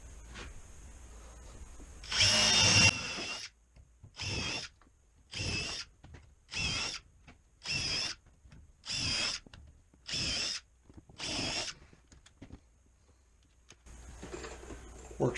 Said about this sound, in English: seems like you have to pre-drill everything